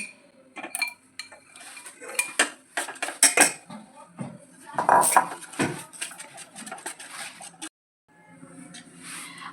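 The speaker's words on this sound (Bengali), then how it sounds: "দইটা আমি ভালো করে ফেটাচ্ছি" A spoon whisks yogurt (curd) in a bowl, making quick irregular clinks and taps against the bowl that stop briefly near the end before resuming more softly.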